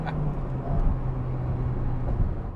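Steady low road and engine drone fills the cabin of an Acura Integra Type R with reduced sound deadening, a continuous near hum with no talk.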